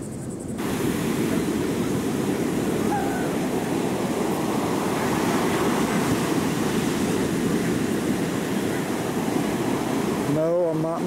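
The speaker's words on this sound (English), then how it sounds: "Yeah, I'm on the beach." Steady, broadband ocean surf washes continuously onto a beach along the Virginia and Carolina coast, a close, loud wall of breaking waves with some wind rumble on the microphone, ending with a brief electronic chirp.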